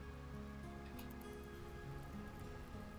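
Steady, dense patter of rain falling in the colony-building video game RimWorld, an even wash of drops continuing without pause at a low, constant level with no talk over it.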